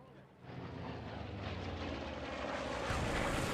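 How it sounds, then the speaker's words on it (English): A plane flying in during a Post Scriptum Market Garden battle, a rising roar of aircraft engine that swells and grows louder over a rumbling wartime background. "Plane coming in."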